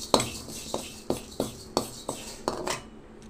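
Moong dal being dry-roasted in a kadai on the stove gives sharp, evenly spaced metallic scrapes and clinks of a spoon against the pan, about six strokes in quick rhythm, close and clear.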